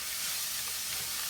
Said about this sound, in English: you're gonna let these saute for about a minute, 2 minutes until they get a little bit translucent